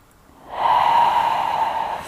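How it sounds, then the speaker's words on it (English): A single long, steady breath drawn in during a power yoga pose, close and fairly loud, rising quickly and holding a smooth airy hiss for about a second and a half. "We inhale for 3"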